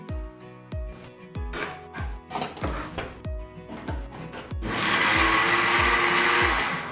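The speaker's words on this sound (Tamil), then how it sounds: "நம்ம மிக்சியில் ஒரு அடி அடித்தோம்னாக்க" A mixer grinder pulses in short bursts with rhythmic thumps, then runs continuously in a steady whirring blend, grinding ingredients for wheat rava kichadi in its jar.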